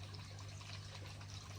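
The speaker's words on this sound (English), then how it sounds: "water flowed through the filters and back out into the pond" A 10,000 pond pump pushes water through pond filters and back out, giving a steady continuous gush and trickle of flowing water with a low mechanical hum beneath.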